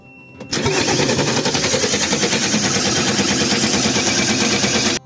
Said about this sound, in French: il était enfin temps d'essayer de redémarrer le moteur